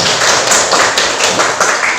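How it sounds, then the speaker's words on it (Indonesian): Primary school pupils clapping hands together in a classroom, a loud, close burst of rhythmic claps in quick repeated beats lasting about two seconds. "Bagus sekali, tepuk tangan."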